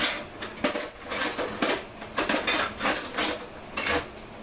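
Metal cutlery and utensils clattering as a drawer is rummaged through in search of a spoon, a close series of irregular jangling clinks and rattles in quick bursts.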